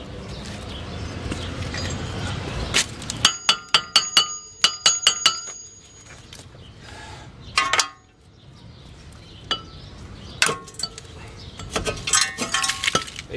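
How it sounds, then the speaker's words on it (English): The brake rotor comes off a 1997 Honda Civic DX with a series of sharp metallic clinks and clanks, some in quick bursts and some spaced apart, amid rattling handling noise close by. "I'm gonna go ahead and take this rotor off now."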